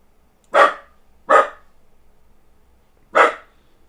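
A dog indoors gives three sharp, loud, close barks, two in quick succession and a third after a pause, with quiet room tone between.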